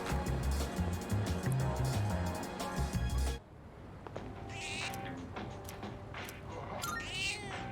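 A cat meows in Persona 3 Reload, with two or three short, clear mews heard after busy game music cuts out, over a quiet background.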